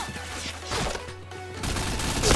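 Rapid gunfire in the shooting video game Point Blank, a dense sequence of close, sharp shots and impacts over a constant game background hum, with no speech.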